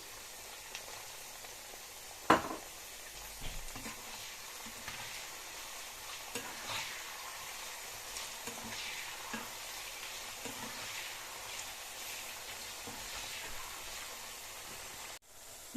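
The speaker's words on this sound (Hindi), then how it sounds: "हमारी भिंडियाँ फ्राई हो चुकी हैं" Okra (lady finger) fries in a pan while being stirred, a soft, faint sizzle broken by occasional scraping knocks of a spoon, one sharper clack early on.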